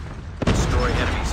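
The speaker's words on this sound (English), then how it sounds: "Predator missile inbound." A predator missile explosion in the mobile shooter Call of Duty: Mobile, a sudden loud boom that hits after a short lead-in and rolls on as a dense, heavy rumble.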